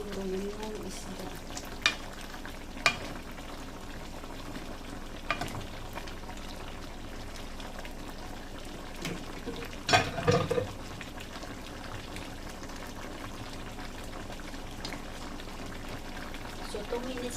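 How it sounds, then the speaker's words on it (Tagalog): Ginataang papaya with bangus being stirred deeply in a pan, a low steady simmer broken by scattered spoon scrapes and clinks, with a louder cluster of knocks midway, and a voice talking faintly now and then. "Palalim yung mix natin para hindi madurog yung isda."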